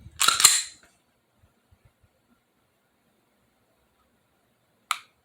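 An SD40VE pistol on test after a trigger upgrade gives a burst of mechanical clicking, then quiet, then one short crisp click of the trigger reset near the end, close and isolated.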